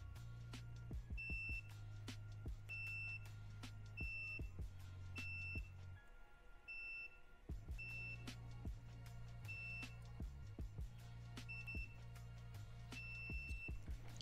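Multimeter continuity tester beeps in short regular tones while fuses on a Triumph Street Triple 675R motorcycle are checked, repeated beeps about once a second over a low steady hum, with a pause midway.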